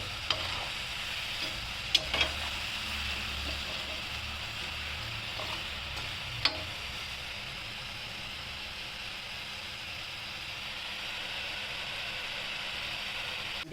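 Kodubale, ring-shaped Karnataka snacks, deep-frying in hot oil: a steady, fairly quiet bubbling hiss runs throughout, with a few faint clicks and taps near the start and no talking.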